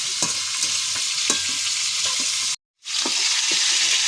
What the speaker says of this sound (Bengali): মাছের মাথাটা আস্তে আস্তে ভাজা হতে লাগে।